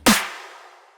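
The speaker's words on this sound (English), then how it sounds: "2 snares layered." A single hit of two layered snare drums sampled for a bass music track, with a sharp attack and a long, fading reverb tail.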